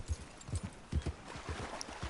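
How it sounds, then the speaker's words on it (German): Horse hooves clip-clop in Red Dead Redemption 2 as a restless horse shifts in place, uneven close thuds in short clusters over a low game background, fairly quiet. "Und dieses Pferd, ne, das kann echt nicht stillhalten."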